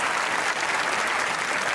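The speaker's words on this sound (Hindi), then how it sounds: "ओ भाई ताली होनी चाहिए" Studio audience applauding on a Pakistani talk show set, a steady dense wash of clapping that holds at even loudness, close and continuous with no voices over it.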